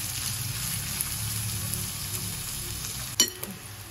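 Onion frying in oil in a pan for a Maharashtrian prawn curry in green masala, a steady close sizzle with a brief clink of a utensil near the end.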